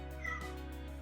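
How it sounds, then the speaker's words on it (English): Cat giving one short meow indoors, faint and brief over a steady electrical hum. "That's my cat."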